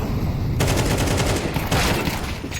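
Five-Seven pistol fire in Counter-Strike 2 during a close-range fight in a tournament match, sharp loud shots in quick bursts over a dense layer of game noise, with two distinct volleys.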